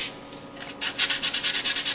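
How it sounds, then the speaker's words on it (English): A Meteor model aircraft kit is sanded by hand, with soft scraping rubs that turn into a quick run of about ten brisk back-and-forth strokes, close and alone. "when you're sanding, make sure you keep changing the part of the sanding instrument you're using"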